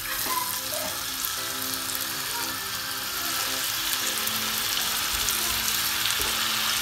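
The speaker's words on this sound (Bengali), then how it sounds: "তো তেলটা একটু গরম হোক, তারপর হয়েছে আমরা চিকেনগুলো দিব। এবার আমরা এক পিস করে চিকেনগুলো দিয়ে দেবো" Chicken pieces fry in hot oil with a steady, dense sizzle that stays constant throughout, with no voices over it.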